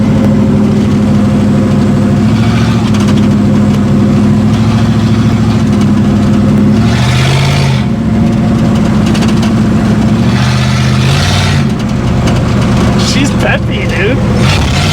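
A 1937 Ford pickup truck rolls along a bumpy road, its engine a loud, steady drone whose pitch dips and climbs as it changes speed, with rattles and bumps on top throughout.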